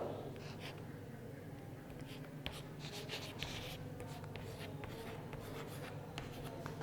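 Students in a secondary school English class writing on paper, a faint continuous scratch of pens and pencils over quiet room noise, with no talking.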